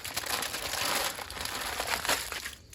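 Tinfoil crinkles and rustles continuously as cooked deer meat from a Nebraska river antlerless hunt is moved onto it, close and steady, easing off at the end.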